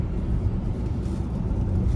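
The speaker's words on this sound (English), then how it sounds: "alright, so we're driving the IX here. We're merging on the interstate." BMW iX xDrive60 electric SUV merging onto an interstate: a steady low road and tyre rumble inside the cabin, muted and even, with no engine note.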